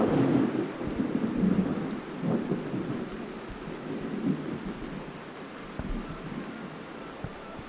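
Steady heavy rain with rolling thunder in a Skyrim storm, a continuous dense wash of rainfall with low rumbles swelling throughout and no voices.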